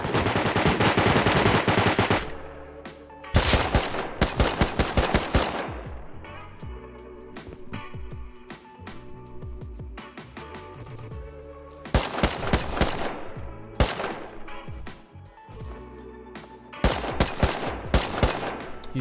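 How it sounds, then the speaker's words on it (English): Rapid bursts of automatic gunfire from a shotgun turret in a video game, loud and close, coming in several long volleys with short pauses and a lower rumble between them. "There was a shotgun turret here."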